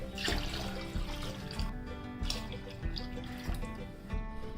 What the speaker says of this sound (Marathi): याच्यामध्ये ना एक 2 ते 3 ग्लास पाणी टाकणार आहे याच्यात।